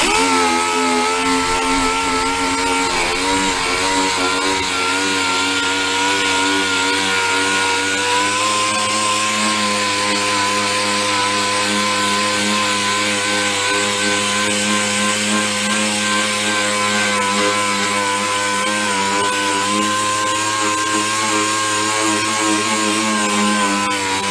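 A power tool buffing a plastic gas tank from a 1985 ATC250R, a steady loud motor whine with shifting pitch as it works the surface, continuous and close with no voices.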